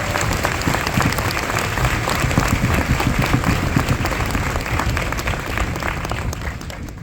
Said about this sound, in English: I ask that all of you join me in a round of applause for the distinguished soldiers in the band.